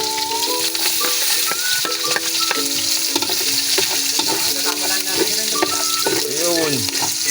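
Onion sizzles in a hot pan for Bicol express, a continuous loud frying hiss punctuated by clattering stirs of a utensil against the pan, with brief voices now and then.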